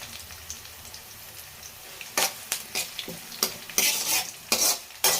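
Kalonji seeds and curry leaves fry in oil in an iron pan with a constant crackling sizzle, broken by a run of loud, close stirring scrapes that grow denser toward the end. No voices.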